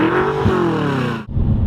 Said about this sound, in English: You hear a little bit of turbocharger, and it does sound good